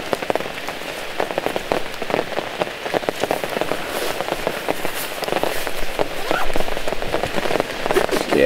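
Rain patters steadily on surfaces at a campsite, a dense scatter of close drops and taps running throughout, with occasional louder hits.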